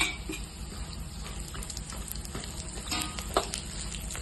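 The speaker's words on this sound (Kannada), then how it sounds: "ಈಗ ಮತ್ತೆ ದ್ರಾಕ್ಷಿ ಹಾಕೊಂಡು ಫ್ರೈ ಮಾಡ್ಕೊತೀನಿ" Raisins frying in ghee after cashews, almonds and cardamom for vermicelli payasa, a soft continuous sizzle with light stirring and a few faint clinks, fairly quiet and without talk.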